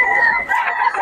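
A rooster crows loudly and close by in one long strained call, heard at a market where gamecocks are being sold.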